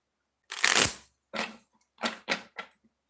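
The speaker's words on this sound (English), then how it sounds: "2 shuffles for couples." Oracle cards being shuffled by hand in several bursts: one long riffling rush followed by three or four shorter, crisp shuffles with brief pauses between, close and clear with no talking.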